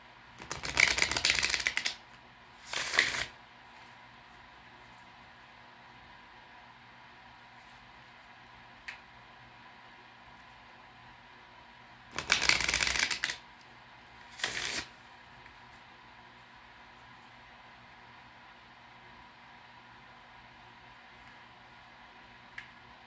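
Oracle cards are shuffled in two pairs of brisk riffling bursts, close and crisp, separated by long stretches of near silence.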